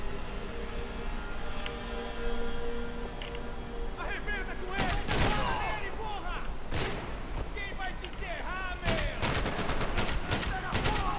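Gunfire in Max Payne 3, sharp single shots and short bursts cracking out loudly over a droning game background, with talk nearby.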